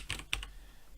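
Computer keys clatter in a brief close burst of a few quick clicks over quiet room tone, with no speech.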